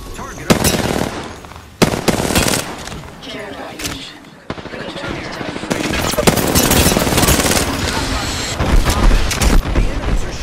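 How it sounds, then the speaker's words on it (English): Enemy gunfire crackles in a video game as loud, dense automatic bursts and blasts pour in almost continuously, close and harsh, with a voice talking underneath. "The enemies are shooting at me."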